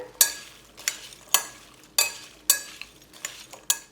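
Waldorf salad with toasted pecans being tossed together in a bowl, giving seven sharp, fairly close scraping clatters at a steady rhythm of about one every half second, with no voices.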